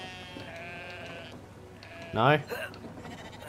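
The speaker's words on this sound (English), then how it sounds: "Maybe get the sheep to do something?" A sheep bleats once, loud and wavering, with a shorter bleat after it, in the video game Brothers: A Tale of Two Sons, while someone talks over steady game ambience.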